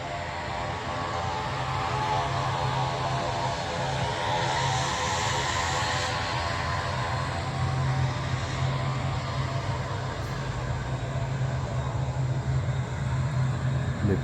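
A propeller airplane drones steadily overhead, its engine hum loud and continuous for the whole stretch, with no voices.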